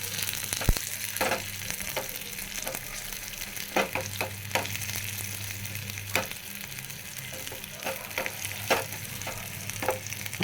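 Steady sizzling of small onions frying in a pan, with occasional scraping stirs and light taps, close up and without talk.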